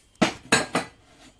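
Plates are handled in a kitchen cupboard: three sharp ceramic clinks in quick succession, close and clear, followed by a faint softer knock.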